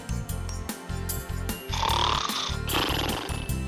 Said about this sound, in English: I think I know! Someone's snoring!